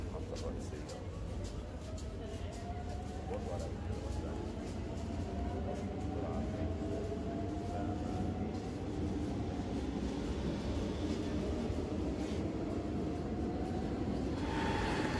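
A Cairo Metro Line 2 train moves through Al Shohadaa station with a continuous low rumble and a rising tonal whine as it gathers speed, faint and steady throughout.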